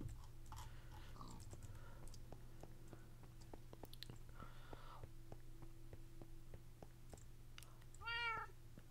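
A cat meows once, faint and brief, toward the end of a quiet stretch in a Minecraft stream, amid soft clicking and a low steady hum.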